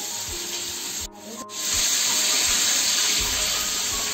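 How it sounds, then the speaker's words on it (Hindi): Chicken drumsticks frying in a pan, a loud steady sizzle that drops briefly after a second, then returns even stronger and continues unbroken. "तो हमने बस इसको फ्राई करना है बस।"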